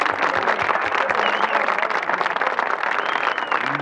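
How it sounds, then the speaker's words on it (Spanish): An audience applauds a composer after his song is performed, sustained loud clapping from many people that fills the room evenly and continues without a pause. "Merecidísimo aplauso para este compositor."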